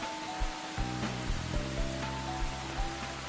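Steady rain hiss in a visual novel scene at night outside a store near a station, a continuous wash with soft low thuds and a faint tonal music bed underneath, no voices.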